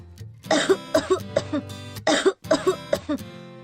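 A person coughs hard again and again, a quick series of rough, close bursts with short gasps between them and no talking.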